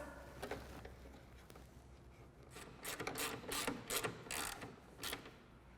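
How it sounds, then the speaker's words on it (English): Torx fasteners being driven back in to secure a Polaris belly pan to the bumper, with soft scattered clicks, then a cluster of quick ratcheting bursts in the middle, faint and close. "So I'm going to reinstall the 2 Torx fasteners that secure the belly pan to the bumper."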